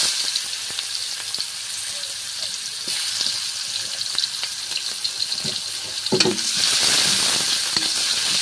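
Onions sizzle steadily in a hot wok with a continuous frying hiss, swelling louder near the end with a brief clatter.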